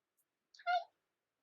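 A single short, quiet meow from a cat in an otherwise silent space.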